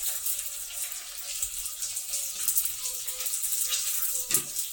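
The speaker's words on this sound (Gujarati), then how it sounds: "અને અડધો કપ જેટલું પાણી નાખીશું તેમાં" Water pours steadily into tamarind pulp for making pani puri water, a continuous close splashing stream with no voices.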